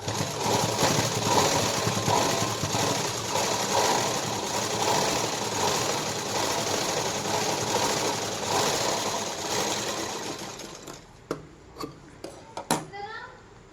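A sewing machine stitches a fabric sleeve with a steady, fast mechanical whirr that runs for most of the time. It then stops, leaving a few short clicks and handling knocks near the end.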